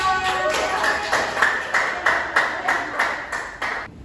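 Children in a classroom clap for a group in a steady, rhythmic burst of about a dozen even claps that ends abruptly.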